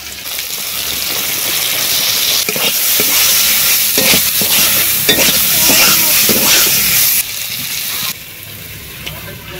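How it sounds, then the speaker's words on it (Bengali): Freshwater snails (gugli) frying in oil with a paste of turmeric, ginger and chilli, stirred steadily; a loud, close, continuous sizzle with scraping stirs throughout, easing slightly near the end. "মশলা থেকে তেল ছেড়ে গেছে, এবারে দিয়ে দেবো গুগলিগুলো"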